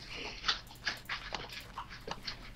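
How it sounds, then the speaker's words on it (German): A dog rummaging in a garbage bag indoors gives a string of faint, close rustling and crinkling bursts mixed with chewing and snuffling, spread irregularly across a couple of seconds. "der wühlt gerade in irgendeiner Mülltüte rum"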